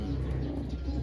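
Homing pigeon back at its loft, soft low cooing close by under steady background noise, a continuous murmuring coo through the moment.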